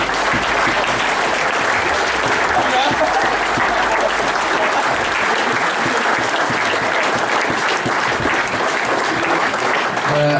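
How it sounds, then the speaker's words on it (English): An audience at a football club's end-of-season awards evening applauds steadily and loudly, a dense sustained clapping that holds for about ten seconds with some murmuring mixed in. "Round of applause for those people as well."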